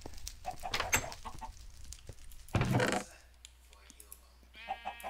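Minecraft chickens clucking amid game noise, with a burst of louder in-game sound partway through and a few more bird-like calls near the end, no talk over it.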